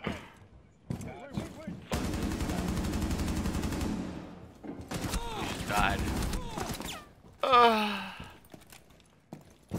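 Weapon fire from the operator Fuze in Rainbow Six Siege, fired from the hip: long, continuous, loud bursts broken by short pauses, with other game sounds and a voice in between.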